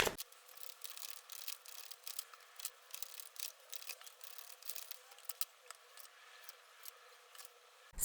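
Tarot cards are shuffled by hand, a run of quick crisp riffles and soft slaps in irregular bursts, close and fairly quiet, with no talking.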